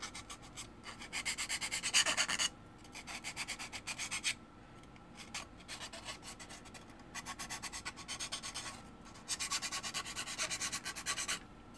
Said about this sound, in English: I'm just going to go in there and sand down all the cuts I just had